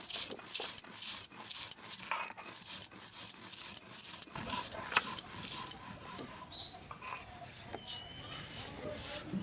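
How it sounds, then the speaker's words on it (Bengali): Roasted spices being ground into powder by hand for a sweet-sour-spicy Bengali amra pickle, heard as rough rhythmic rubbing and scraping strokes that repeat steadily and close by throughout. "ভাজা মশলাটাকে এখন বেটে গুঁড়ো করে নিচ্ছি"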